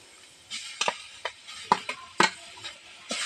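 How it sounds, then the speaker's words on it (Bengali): Potato is stirred and sautéed in a pan with chopped garlic, dried chili, salt, cumin powder, chopped green chili and turmeric. A spatula scrapes and taps in uneven strokes over a faint sizzle, close and without talk. "এই মশলার সঙ্গে ভালো করে আলুটাকে কষিয়ে নেব"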